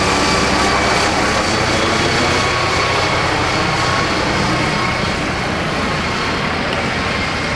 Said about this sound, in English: This is a twin-engine aircraft.